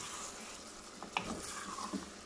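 Minced meat with small chopped green chillies frying in a pan, a steady quiet hiss with a few soft scraping knocks from stirring, fairly faint and without talk.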